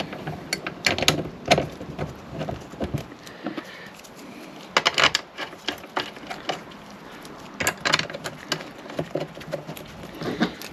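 A socket ratchet tightens the seat-lock bolts on a Honda CBR 1000F motorcycle. It clicks up close in quick, irregular bursts with short pauses between them, and no voices.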